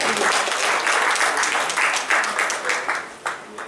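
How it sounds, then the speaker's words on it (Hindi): An audience at an award function gives strong applause, dense clapping that stays loud and then thins into scattered claps as it tapers off. "एक बार और जोरदार तालियां श्रीनिवास पुजारी जी के लिए"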